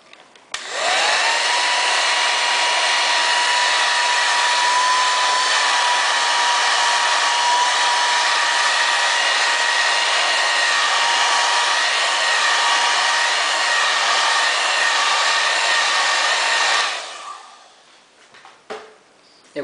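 A hair dryer runs steadily for about seventeen seconds, drying paint on a brush-marquetry craft piece, a loud continuous whirring hum with a slight pitch rise at start-up, then switched off followed by a few faint clicks.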